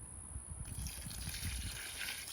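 Water trickles and splashes steadily into dry 50-pound bagged concrete mix in a hole around a wooden fence post, a close, continuous pour with no talking.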